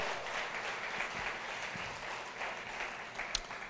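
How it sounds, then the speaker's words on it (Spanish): Congregation applauding at a Christian church service, a steady broad wash of clapping held at moderate level throughout, with no voices over it. "Alguien puede darle un aplauso al Señor."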